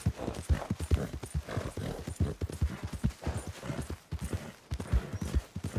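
Horse hooves clip-clop in Red Dead Redemption 2, a brisk steady rhythm of close, distinct hoofbeats on the ground with brief pauses.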